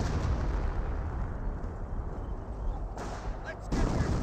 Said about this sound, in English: M10 firing away